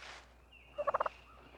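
A wild turkey gobbler in mating season gobbles once, a rapid burst of four or five loud rattling notes rising out of a quiet outdoor background.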